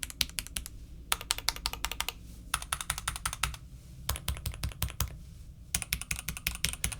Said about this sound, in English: so I'm going to hit these keys a few times.